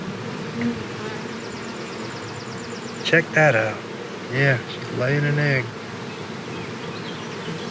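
Honeybees hum in a steady, close, continuous buzz around the egg-laying queen on a frame of a nucleus colony, while people talk over it.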